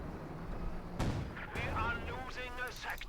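Pak 40 75mm anti-tank gun firing in the World War II strategy game Company of Heroes 2, a single deep boom near the one-second mark over battle din, with a commentator talking throughout.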